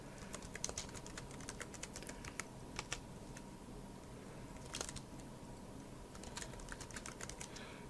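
Faint, quiet computer keyboard typing clicks in irregular bursts of quick keystrokes, with short pauses between runs, over a low steady room hum.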